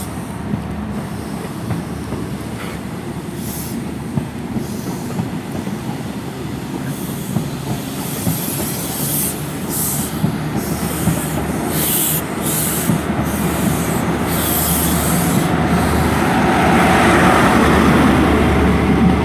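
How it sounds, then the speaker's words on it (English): A pair of South Western Trains Class 159 diesel multiple units pull away at Exeter St Davids with a deep engine drone, wheel clatter and occasional squeal, growing louder as they move off, no talking. "a pair of southwest trains 159s are heading off to the sidings"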